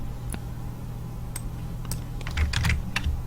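A few computer keyboard keys are pressed, including a Ctrl+Enter combination, as sharp close taps clustered near the end over a low, steady fan hum.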